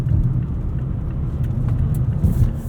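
A 2018 Mazda3 Grand Touring with a six-speed automatic rolls over bumps, heard from inside the cabin as a steady, loud low road rumble with a few faint knocks and thuds across the stretch, and no one talking.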